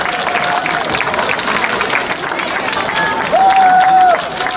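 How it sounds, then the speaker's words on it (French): An audience at an intercultural festival in Ecublens applauds Aitor Ibarola, a dense, steady burst of clapping from a crowd that continues throughout, with a few brief whistles rising above it. "Je vous demande, s'il vous plaît, d'applaudir Monsieur Aitor Ibarola."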